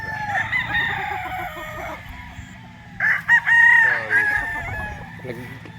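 Sweater gamefowl rooster at a gamefowl farm in Tanauan, Batangas, crowing loudly and close by, with a second crow and some clucking following, over a faint background murmur.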